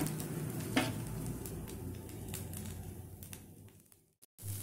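A mini veg pizza dosa fries in butter on a pan over medium flame, giving a steady soft sizzle that fades out near the end, followed by a brief clatter.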